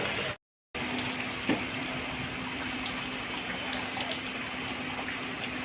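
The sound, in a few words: washing jute leaf greens under running water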